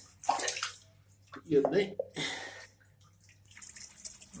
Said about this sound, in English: it's filling up my shower and it will overflow at some point